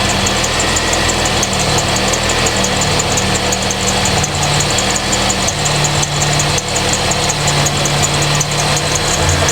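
A Ford Mustang engine idles roughly and loudly up close, a steady low rumble with an uneven, slightly wavering pulse throughout and no talking.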